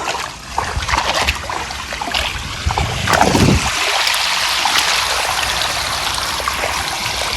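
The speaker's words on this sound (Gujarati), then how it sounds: "તો મિત્રો આપણે પાણી વાળી દીધું છે" Irrigation water streams steadily into a farm field of millet, a continuous close gush and trickle with a brief stronger splash partway through.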